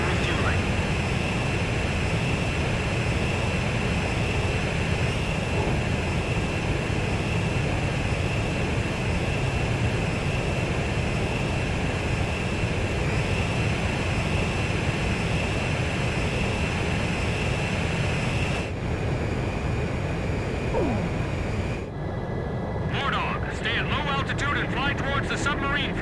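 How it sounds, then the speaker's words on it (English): Jet aircraft engine drone during aerial refueling in the Ace Combat 5 video game, a steady loud roar throughout with radio-style voices talking over it. "Blaze, maintain your current flight path. Perfect, Blaze. Commencing refueling"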